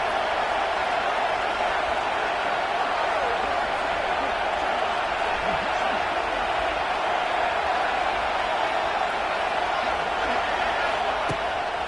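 Steady, roaring stadium crowd noise from a college football video game at Auburn, a broad sustained wash of cheering that holds evenly throughout, with a commentator's voice over it.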